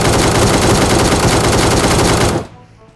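Sustained, dense automatic fire from an ACE32 rifle in the mobile battle-royale game PUBG Mobile, loud and continuous for over two seconds before cutting off abruptly into near silence.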